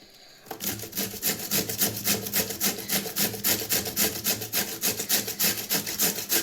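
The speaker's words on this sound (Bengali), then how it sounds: "এই যে মূলাটা ঘষে নিয়েছি" Radish is rubbed against a grater in quick, even strokes, a steady rhythmic rasping that starts after a brief pause and stays close and clear.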